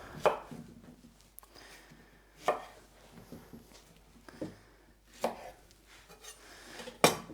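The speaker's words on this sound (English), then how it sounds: "I'm also going to take some of these shallots. So I'm just going to cut the little tip off." A knife cuts the tips off shallots on a cutting board, giving a handful of separate, sharp chops spaced a second or two apart, close and clear with no talking.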